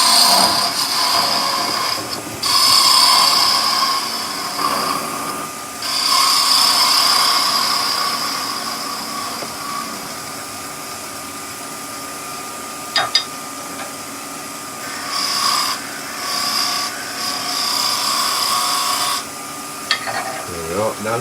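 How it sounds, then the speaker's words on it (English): A wood lathe spins a small nativity figure head while a spindle gouge scrapes and cuts it, giving a continuous rasping, hissing texture with short pauses and tool shifts throughout. "I'll go to a little spindle gouge, speed the lathe up"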